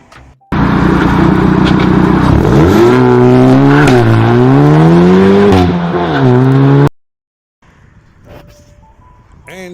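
Cars passing by on a roadside, a loud close whooshing roar that swells and shifts in pitch for several seconds, then cuts off to quiet background with faint traffic.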